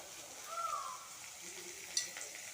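Onion and carrot for rava kichadi sauté quietly in a pan, a faint, even sizzle with a soft clink of a utensil near the end and no voices.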